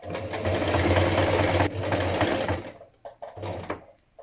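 A domestic sewing machine stitches a buttonhole bar while a blouse is being sewn, running in a loud close whir, pausing briefly, then finishing in short stop-start bursts.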